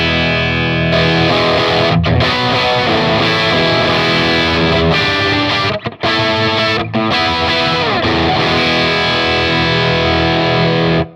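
Heavily distorted electric guitar chords through a driven Matchless amp ring out continuously, loud and saturated, with two brief drops where the strumming pauses before the final sustain.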